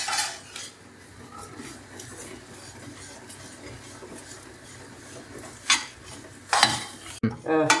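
Rava roasting with coconut in a pan as a utensil stirs and scrapes against the metal, quiet scraping punctuated by a few louder clanks near the end.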